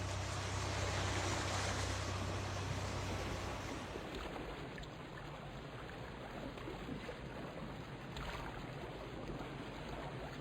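A boat crosses open sea toward an island, with a steady wash of waves and wind rushing around the hull, loud and continuous, with a deeper engine-like rumble fading out partway through.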